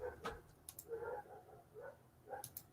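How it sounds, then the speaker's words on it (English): Dogs barking outside in a parking lot, several short yips and barks scattered across the moment at moderate distance, fairly faint. "my dogs are battling people in the parking lot outside"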